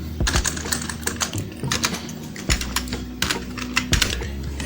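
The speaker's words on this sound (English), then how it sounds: "let me type his name here real quick" Someone types a name on a computer keyboard in a steady run of close, crisp key clicks. A short quiet stretch breaks the rhythm partway through.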